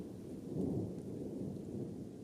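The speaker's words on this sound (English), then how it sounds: "You can hear the thunder overhead." Rolling thunder rumbles overhead during a storm outside a rock art site with ancient petroglyphs and pictographs, a deep continuous roar with steady rain hiss, loud and alone with no voices.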